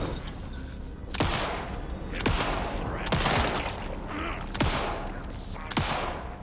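Gunfire in the video game Alan Wake 2, five or six sharp, loud single shots spaced about a second apart over a steady ambient background.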